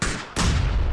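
A grenade blast in the PUBG battle royale game bursts in abruptly as a loud, sharp boom that fills the brief moment after a quieter lead-in.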